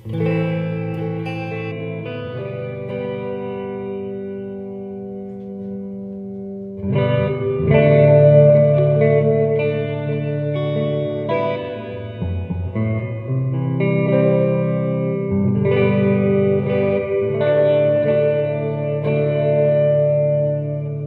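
Electric guitar chords from a 2013 Gibson LPJ Deluxe played through a Cathedral reverb pedal on a plate setting, lush and spacious, notes ringing and washing into long tails, with pauses and renewed strumming.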